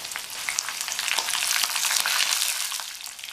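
Curry leaves and dried chillies frying in hot oil for a Tamil amla pickle, a steady dense sizzle with crackling pops throughout, close and fairly loud, no voices.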